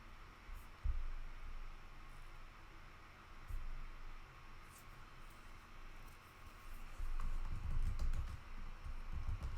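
Keys tap on a computer keyboard in a few quiet, scattered bursts over a low hiss, with a denser run of typing near the end.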